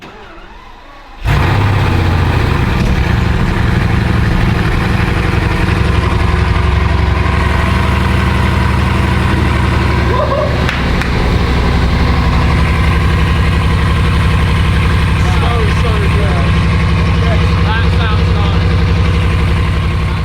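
Repossessed Bugatti Veyron with a quad-turbo W16, 16-cylinder engine starting after a brief quiet moment, then idling loud and steady close by with a deep, constant rumble, a voice talking over it.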